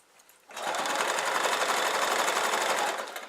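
A sewing machine stitches binding onto a quilt in one steady, fast, even run of close mechanical whirring lasting a few seconds, starting abruptly and tapering at the end.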